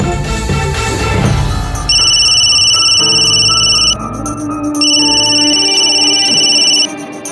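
A telephone ringtone repeats in two steady electronic bursts of rings with a short gap between them, loud and close, as a call is placed to a second number in a Hindi TV crime drama.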